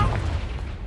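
Confringo fire spell blast from Hogwarts Legacy, a single deep booming burst with a rumbling low-end tail, loud and close, with no talk over it.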